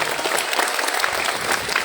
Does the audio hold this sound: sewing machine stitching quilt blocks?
no